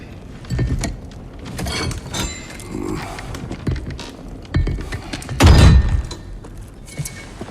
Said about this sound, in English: Listen to the sounds both their weapons make when they set them on the table.